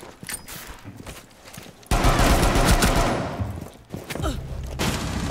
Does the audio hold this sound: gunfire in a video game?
yes